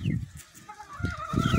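Young chickens on a farm cluck and chirp, several soft low clucks in bursts mixed with higher peeping calls, close by and fairly steady.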